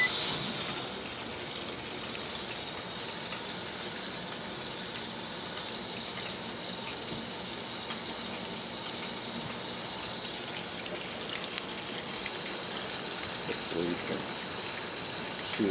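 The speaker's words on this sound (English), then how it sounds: "See the water coming in there." Water rushes steadily into a 1978 Maytag A408 and a 2017 Speed Queen 8 Series washer as they fill, a constant close gushing hiss with faint talk.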